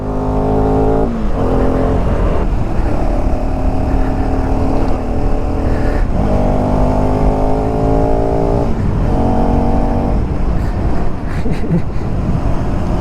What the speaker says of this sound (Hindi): रॉ रखता हूँ with the exhaust sound and everything